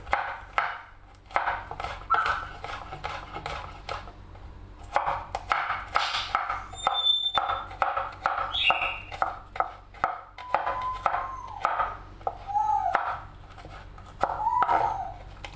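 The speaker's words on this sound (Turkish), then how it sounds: "Sarımsaklarımın da üzerine birazcık vurarak iri iri doğruyorum" Garlic cloves coarsely chopped with a knife on a cutting board, a run of close, sharp irregular taps and thuds repeating steadily, with a few brief clinks of utensils in between.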